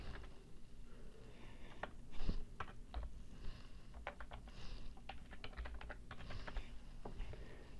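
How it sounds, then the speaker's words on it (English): Fingers tap out a username and password on a computer keyboard in quick uneven bursts of crisp clicks, close and fairly quiet, with brief pauses between runs of keystrokes and no voices. "We have to type in our username and password."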